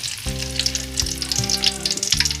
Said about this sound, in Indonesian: Setelah minyaknya panas, tumis bawang merah